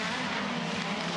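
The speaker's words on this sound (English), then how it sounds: "Rinken again locked up under brakes" An Aussie Racing Car locks its brakes during a race at Sydney, a loud sustained tyre skid over roaring engine noise, continuous through the brief moment with no talk.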